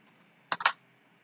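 Computer keyboard tapped while writing a program: a quick cluster of three close keystroke clicks over a faint steady background hum, with no speech.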